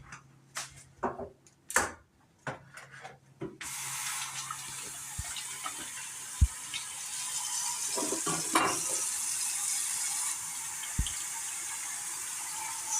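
Wild herbs washed under a running kitchen tap for a Black Sea herb dish, beginning with a few scattered knocks and clatters, then a steady close rush of flowing water with small splashes and occasional clicks.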